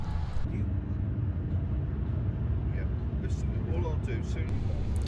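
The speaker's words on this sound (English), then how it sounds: "I'm now in a taxi heading from Nuremberg to Frankfurt" A taxi rolls along the road from Nuremberg to Frankfurt, its low, constant engine and tyre rumble filling the cabin while a voice talks over it.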